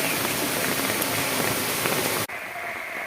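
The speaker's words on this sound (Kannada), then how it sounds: "ಎಷ್ಟು ಜೋರಾಗಿ ಬೀಳ್ತಾ ಇದೆ ನೋಡಿ ನೀರು" Rainwater running off paddy fields pours down into one stream during coastal monsoon rain, a dense steady rushing roar heard close and loud. It cuts off abruptly near the end and gives way to a quieter wash of water.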